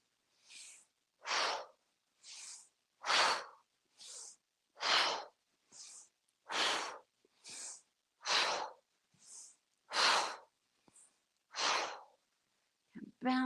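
Slow paced breathing during a tai chi session, each breath drawn in through the nose and released out the mouth, about a dozen close, airy breaths alternating steadily with short pauses and no talk.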